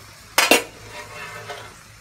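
Fried peas being mixed on a plate, two sharp clinks of metal utensils against the plate followed by softer scraping and stirring sounds, close up with no talk.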